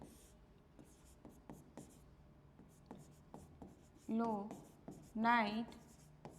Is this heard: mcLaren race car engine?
no